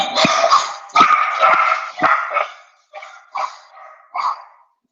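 Several dogs bark in bursts nearby, a flurry of loud barks followed by a few scattered, softer ones.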